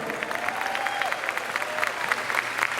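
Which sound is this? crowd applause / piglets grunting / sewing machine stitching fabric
crowd applause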